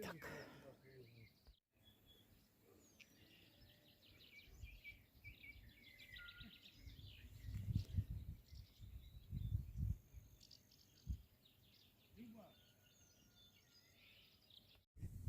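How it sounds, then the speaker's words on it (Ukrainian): Birds sing outdoors, giving faint scattered chirps and tweets over a steady insect trill, with low rumbling and soft voices drifting in the background. "Як пташки гарно співають."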